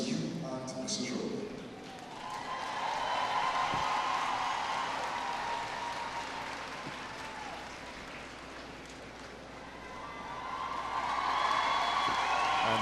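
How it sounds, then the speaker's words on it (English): A parade crowd at an Independence Day celebration bursts into sustained applause and cheering for the arrival of the Prime Minister and his wife, swelling twice, a dense, broad wash of clapping over distant chatter. "the crowd erupting into applause at the arrival of the Prime Minister and Mrs. Rowley"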